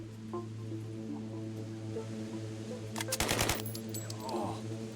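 In a post-apocalyptic combat game set on a flooded Earth, a burst of rapid gunfire cracks out over a low ambient hum, a brief cluster of shots followed by a faint rattle.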